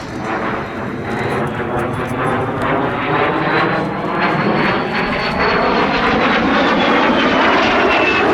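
A de Havilland Vampire jet fighter roars past at an air display, a loud sustained jet whine with a slowly falling pitch sweep as it passes, steady and continuous throughout.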